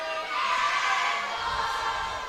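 A home crowd at a Mountain Pine high school boys basketball game gives a brief, sustained murmur of cheering and shouting, a broad steady roar without distinct claps.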